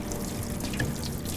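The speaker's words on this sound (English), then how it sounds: "just start to run the water through like that, and you can just see all of the dirt and the cleaner is just coming out" Water runs from a sink tap through an ITG air filter as cleaner is rinsed out, a steady close splashing gush that continues without pause.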